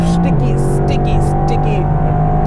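A twin-turbocharged Mercedes AMG GTR on Michelin Cup 2 tires drives hard on a race track, its engine holding a steady loud tone, a brief shift dropping the pitch early, with some wind noise over it.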